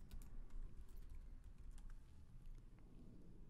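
Keys clatter on a computer keyboard as a command is typed into the Metasploit Framework console, a steady run of light close clicks over a low background hum, with no talking.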